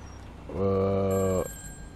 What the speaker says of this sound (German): Da ist das Telefon.